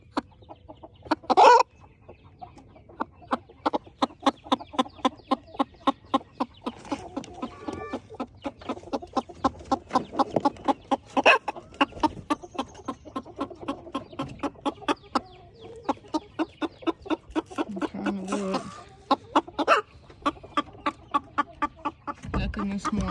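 Three Silkie hens cluck and murmur in a nesting box in a steady run of soft, close calls, with a few louder squawks, while a person talks over them.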